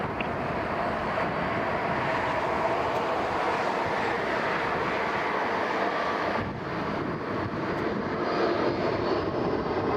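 Air Canada 745 takes off from runway 05 at Toronto Pearson at night, a sustained jet engine roar at a distance that stays loud and even, with a slight dip partway through and no talk.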